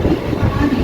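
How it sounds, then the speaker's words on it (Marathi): Mumbai local train running, a steady loud rumble of wheels and carriage heard from inside the moving train, brief and continuous. "चला आम्ही आता ट्रेन पकडलेली आहे आणि आता जाणार आहे तुम्ही घरी."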